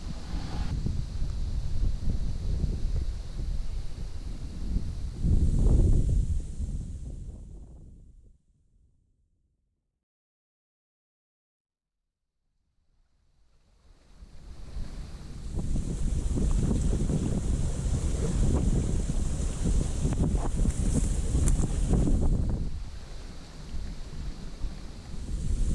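Strong wind roars and buffets the microphone at a lakeside campsite on Stillwater Reservoir, loud gusts that fade to near silence midway before surging back strongly.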